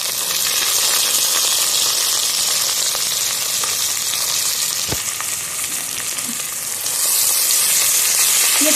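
Garlic and ginger paste sizzling loudly in a hot karahi of oil for seekh kebab curry, a steady dense frying hiss lasting throughout with occasional faint clinks of a utensil.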